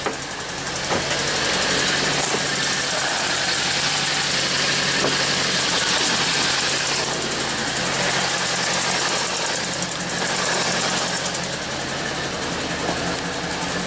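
Engine of a silver 1985 Chevrolet Corvette idling with the hood open, a steady close rumble with faint ticking and slight knocking, holding an even level throughout.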